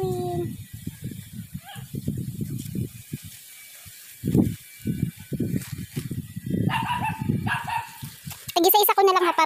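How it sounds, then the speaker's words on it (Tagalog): A dog barks amid people talking in Filipino while croton cuttings are planted outdoors; the barking sounds close but is partly buried under the steady conversation. "Kasi maingay nga yung aso."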